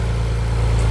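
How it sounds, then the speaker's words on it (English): Nissan VG30DE V6 engine idling with faulty intake cam gears, a steady low rumble with even harmonic pulsing, loud and close throughout, no voices. "Engines are noisy."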